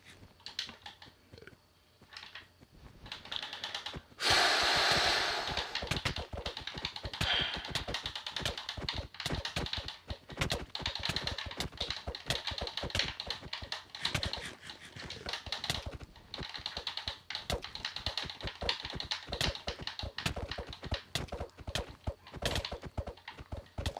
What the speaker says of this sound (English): I'm clicking too fast. I need to click slower.